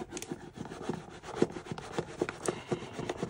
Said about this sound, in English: All right, so let's do some burnishing.